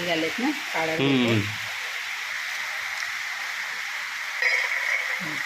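Steady crackling sizzle of jackfruit pieces frying crisp in hot oil, with a short bit of speech at the start.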